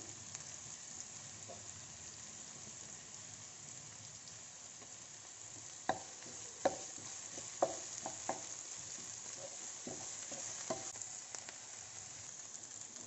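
Onions sautéing in a pan for Bombay sambhar, a soft steady sizzle with a few sharp clicks and scrapes of a spoon against the pan partway through, fairly quiet and with no talking.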